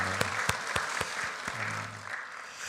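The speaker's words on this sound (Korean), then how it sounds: "97주년을 허락하신 하나님 앞에 영광의 박수를 드리겠습니다." A church congregation claps together at a 97th founding anniversary thanksgiving service, a moderate, sustained patter of applause with a few sharper claps standing out and some faint background sound mixed in.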